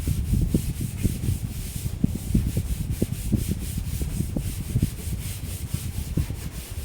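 A chalkboard eraser rubs across the board in a classroom, making steady back-and-forth scrubbing strokes in a quick rhythm, close and continuous, with no voices.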